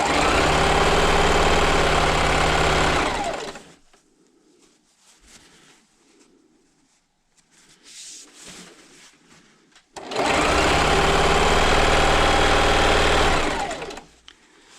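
A home sewing machine stitches quilt fabric strips in two steady, loud runs, a long burst at the start and another near the end, separated by a quieter pause with faint handling noises.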